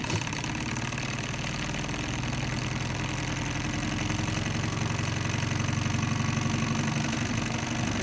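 A vintage Mamod SP2 toy steam engine runs steadily under steam, giving a continuous close chuffing and mechanical rattle at an even rhythm, with no voices.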